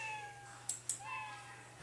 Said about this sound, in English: Like that you can make sounds with your scratch cat.